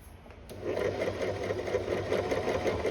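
A Janome 1522 sewing machine runs a straight stitch, a steady, close, rapid whirring hum with a fast even needle rhythm that starts up after a brief quiet moment.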